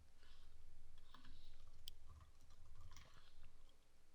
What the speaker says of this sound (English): So let's just type in Instagram